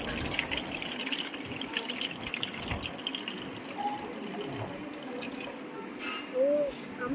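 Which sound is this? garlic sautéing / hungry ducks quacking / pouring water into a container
pouring water into a container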